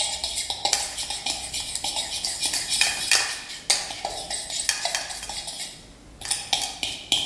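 A spoon scrapes and clinks against a bowl while sherbet powders and jelly crystals are stirred together, a close, steady run of gritty swishes and metallic taps with brief pauses.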